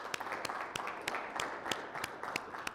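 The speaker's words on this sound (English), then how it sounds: "so I would like a round of applause for Deborah" An audience at a software company summit applauds in a steady wash of clapping, with a few sharper individual claps standing out at a loose rhythm throughout.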